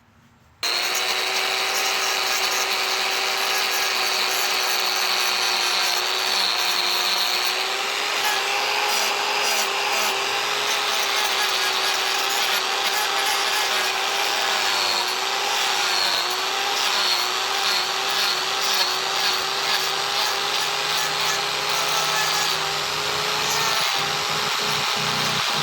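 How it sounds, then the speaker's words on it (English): An Arbortech power carving grinder with 36 grit shaping red birch laminate. It kicks in abruptly and runs as a loud, steady, high-pitched grinding whine for about 25 seconds, with slight wavering as it bites into the wood. "Arbor-Tech grinder."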